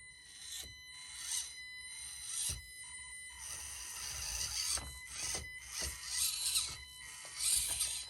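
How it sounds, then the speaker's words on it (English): A small Axial SCX24 RC crawler with an upgraded brushed motor runs slowly, its faint motor whine and gear noise rising and falling with soft scrapes and ticks as it moves, close by with no talk. "let's get some footage running these brushed motor vehicles so you could see the kind of slow control you can get out of an upgraded brushed motor"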